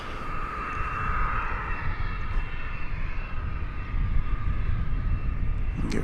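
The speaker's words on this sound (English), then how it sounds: "Got a Delta plane coming to see us." A Delta airliner passes at a DFW runway, its engines producing a sustained, loud jet roar with a droning whine that holds steady and swells slightly before fading at the end.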